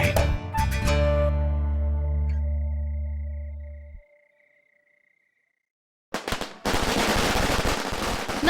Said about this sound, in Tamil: யார் இந்த பட்டாசு வெடிக்கிற வேலையை செய்யறது?